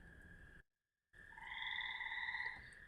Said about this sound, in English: It's mostly tree frogs and toads.